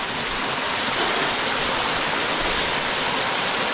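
Steady, dense rush of falling water at Lingala Gattu waterfalls near Srisailam, loud and close, continuous without breaks and no voices.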